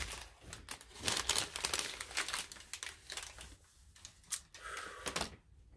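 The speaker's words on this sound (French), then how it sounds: "le papier fait quand même pas mal de bruit" Paper crinkles and rustles close by in irregular bursts while skeins of Merino Superwash yarn are handled. The sound is soft overall, with sharper crackles now and then and no talking.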